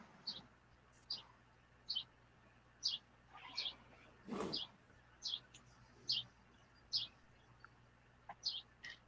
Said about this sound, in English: I hear the birds.